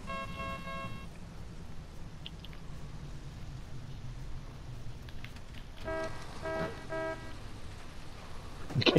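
A vehicle horn honks in the video game Cuisine Royale, a short tonal toot early on, then a burst of several repeated honks near the end over a low rumbling engine and background noise.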